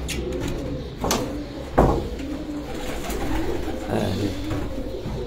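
Pigeons coo softly and repeatedly at a Farran pigeon sports tournament in Gujrat, with a couple of sharp knocks and faint voices in the background.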